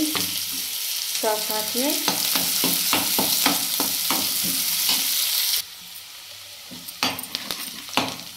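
Onion sizzles and fries in a pan while a spoon stirs it in clear scrapes and clinks. Someone speaks briefly over the cooking. The sizzle softens partway through, and a few stirring knocks follow.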